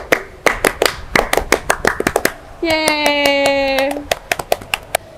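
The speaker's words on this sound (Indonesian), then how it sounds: "Tepuk pramuka." A group performs the Pramuka scout clap at a Gen-Z talk event at a Christian high school: a series of sharp, rhythmic claps in unison, briefly interrupted by a sustained sung or chanted tone, with a cheer and more claps after.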